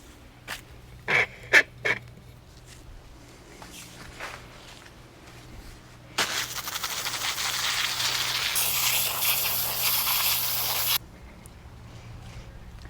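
A hose spray rinses freshly dug dahlia tubers, a hissing rush of water starting midway and running several seconds, growing harsher before cutting off, preceded by a few short honking bird calls in the background.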